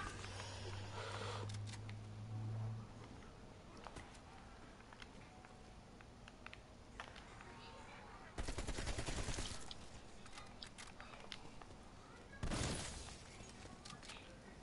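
Sentry turret firing in a zombies video game, two dense bursts of rapid gunfire over faint background shooting and game noise, with a voice talking at the start.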